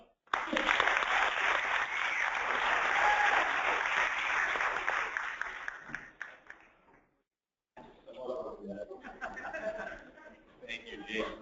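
A crowd at a lightning-talk event claps loudly and steadily for about six seconds with a few chuckles mixed in, fades into a brief silence, then scattered clapping and audience murmur return.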